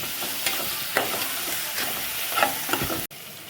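Onion frying in a pan with ginger garlic paste, stirred with a spoon that scrapes at a steady, irregular pace over a soft continuous sizzle, close up with no talking.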